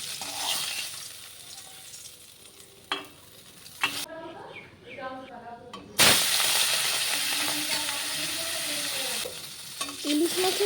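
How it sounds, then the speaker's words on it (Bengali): Hilsa fish heads coated in salt and turmeric fry in mustard oil, giving a fluctuating sizzle with crackles and spatters. A brief stretch of quieter, tonal sounds interrupts it before a loud burst of frying resumes. "এবার লবণ হলুদ মাখিয়ে ইলিশ মাছের মাথাগুলো ভালো করে ভেজে নেব।"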